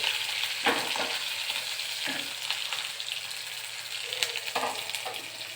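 Nigella seeds and slit green chilies hit hot mustard oil in a pan, giving a bright, continuous close sizzle and crackle with a few spatter bursts and stirring scrapes; no talking.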